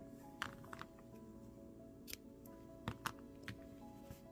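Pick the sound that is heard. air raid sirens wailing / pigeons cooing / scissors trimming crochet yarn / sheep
scissors trimming crochet yarn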